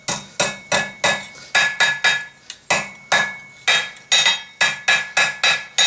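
Hot steel being hammered on an anvil to forge a drive hook, a steady series of about fifteen loud ringing blows in an even rhythm with one brief pause, close and alone.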